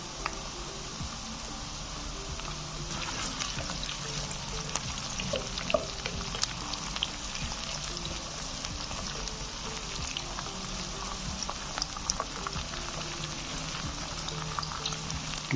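Sliced chilies drop into a pan of onions frying to light brown for a lobia masala curry, giving a steady, dense sizzle with scattered crackles and pops throughout, no voices.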